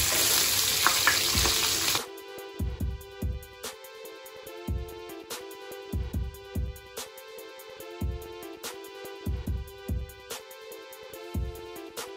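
Sliced big onion sizzles in a pan for vegetable korma. A loud hiss opens, then a steady frying bed runs under repeated rhythmic scraping stirs, close up.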